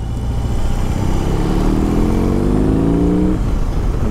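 A BMW R18 cruiser motorcycle engine drones steadily while riding, a loud, constant low rumble with a rising whine partway through, heard alone without voices.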